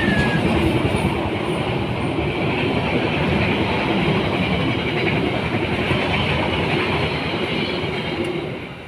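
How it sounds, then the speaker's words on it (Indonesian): A train rolls past steadily and close by for the whole stretch, a dense continuous rumble and clatter of wheels on rails that fades slightly at the very end, with no talk over it. "Bentar, ada kereta lewat."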